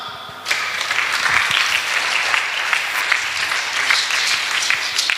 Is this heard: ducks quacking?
no